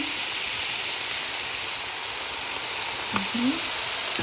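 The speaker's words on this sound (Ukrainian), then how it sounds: "тут індичка смажиться" A steady sizzling hiss of turkey frying in a hot pan, with a brief clink and a short sound near the end.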